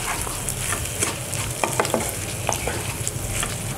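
Potatoes frying in oil with chilli flakes and cumin powder give a loud, continuous sizzle, with scattered scrapes and clicks as they are turned in the pan. No one speaks.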